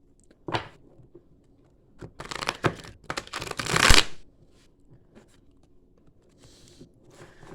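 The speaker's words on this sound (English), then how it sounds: "we'll give it one more shuffle" Tarot cards are riffled and shuffled in a few quick bursts, the loudest a long crisp flutter, separated by quiet pauses.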